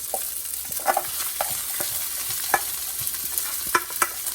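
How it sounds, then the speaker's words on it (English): Chicken fried rice is broken up and stirred in a T-fal pot, giving soft scraping strokes and sharp utensil clicks against the pot over a quiet, continuous frying sizzle. "I like to break my rice up pretty well"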